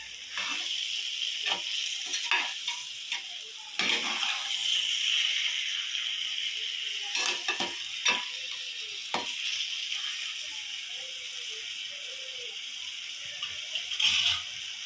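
Pan of onions frying for chicken curry in a clay pot, a steady hiss of sizzling with water poured in and several sharp scraping strokes of a stirring spoon, fairly close and moderately quiet.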